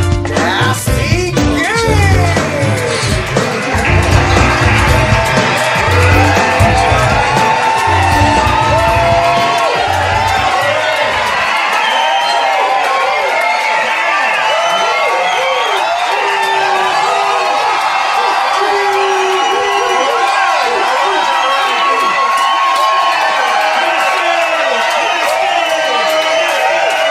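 A game show studio audience cheers, whoops and shouts loudly as the host enters. Heavy music under the crowd for the first eleven seconds drops away, leaving the cheering to carry on alone.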